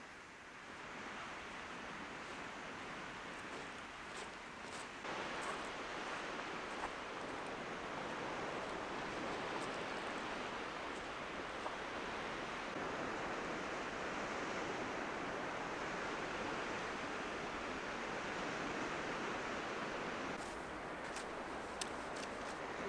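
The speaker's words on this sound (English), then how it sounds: "the sound of waves" Steady, broad wash of ocean surf rolls continuously onto the shore of an uninhabited island, loud and enveloping with slight swells, faint breezy gusts and brief crackles near the start and end.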